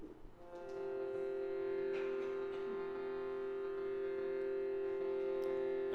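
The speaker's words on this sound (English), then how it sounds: "So I'll play it here on the Shruti box" Shruti box drone, a steady reedy sustained chord that swells in after a soft start and holds continuously, near and fairly loud, with no voices over it.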